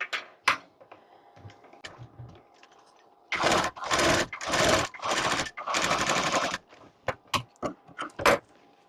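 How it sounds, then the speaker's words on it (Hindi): Domestic sewing machine stitching tucks into a blouse: sustained whirring runs of stitching in the middle, then short stop-start bursts, close and alone. "और अब हम ये वाली टक्स की सिलाई लगाएंगे।"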